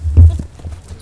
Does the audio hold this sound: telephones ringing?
no